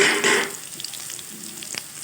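Dried red chillies frying in oil, a bright sizzle that flares loudly at first then settles into a softer crackle with small pops.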